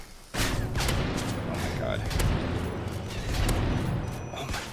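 The slow-firing L11 gun in Modern Warfare 3, with a sustained barrage of gunfire and thudding booms starting abruptly and continuing loud and dense throughout, mixed with game effects and a voice talking over it.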